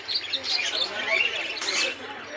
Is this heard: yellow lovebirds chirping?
yes